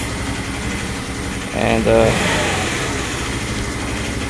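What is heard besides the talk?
motorcycle engine idling at low revs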